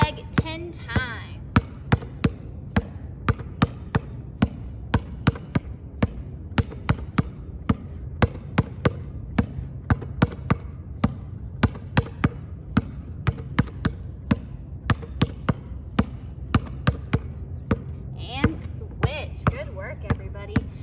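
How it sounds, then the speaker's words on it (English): Basketball dribbled in a repeated loop around the leg using the finger pads, a steady stream of sharp, close bounces thumping on the floor with low background music underneath. "pushing the basketball down with our finger pads. Let's go around our leg 10 times."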